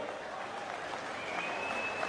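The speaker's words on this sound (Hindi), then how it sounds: "आदरणीय हमारे राष्ट्रीय अध्यक्ष खड़गे जी आए, उनके लिए जोरदार तालियों से उनका स्वागत करें एक साथ मिलकर" Audience at a Congress party rally in Mhow, Madhya Pradesh applauds to welcome the national president, a steady dense wash of clapping at moderate distance with no break.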